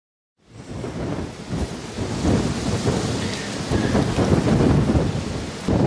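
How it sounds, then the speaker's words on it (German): Heavy rain from a sudden storm pours steadily on a balcony while deep thunder rumbles on and off, all fairly loud and close, with no voices. "Wir haben jetzt doch noch plötzlich Sturm bekommen."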